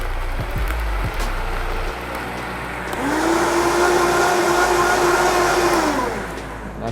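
A countertop blender whirs loudly for several seconds, grinding oats, half a banana and almond milk into an almond oat smoothie; the steady motor drone rises and holds after some lid handling.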